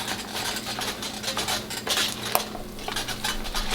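A spoon scrapes and clinks against a pot while ground chili meat seasoned with pepper browns on an apartment stove, giving a continuous close stirring clatter with sharp metallic knocks and no voices.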